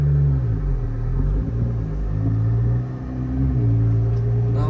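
A 2023 Jeep Gladiator Rubicon 4x4 on a test drive, its engine giving a steady low rumble from inside the cab, with a brief dip in the middle before the drone settles back in.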